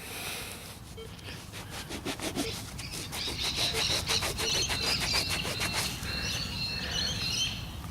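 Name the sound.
scrubbing a dug-up coin to clean it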